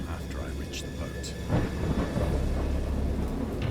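A thunderstorm in the video game Dagon by Bit Golem brings heavy rain with rolling thunder. A deep rumble swells in partway through and keeps growling beneath the steady downpour.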